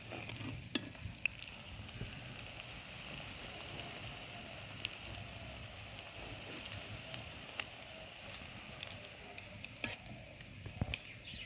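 Pumpkin flower fritters frying in hot oil, a soft continuous sizzle with scattered crackles and small pops, steady and fairly quiet throughout.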